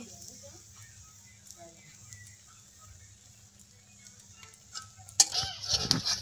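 Spices with turmeric and chilli powder are stirred and sautéed in a pan for a vegetarian dish. Quiet faint scraping gives way to louder clattering stirring and sizzling near the end, with soft voices in the background.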